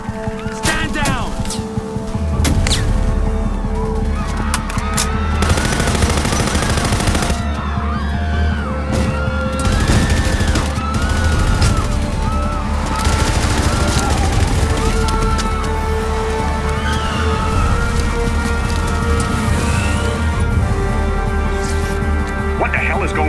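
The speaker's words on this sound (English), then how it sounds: "Gunshots reported in the plaza." Gunfire crackles through a mission in the video game Act of War: Direct Action set in London, rapid bursts and booms running continuously and loud under voiced dialogue.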